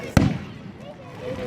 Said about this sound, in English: We're gonna sit back and view the fireworks.